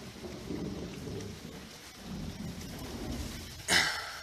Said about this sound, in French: l'orage il est tombé pas loin